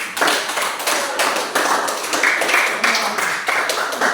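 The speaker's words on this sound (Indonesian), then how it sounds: "Oke, jelas tepuk tangan dulu." A classroom of students claps hands during a Christian religious education lesson, a dense, steady patter of many hands sustained throughout at close range, with no talk over it.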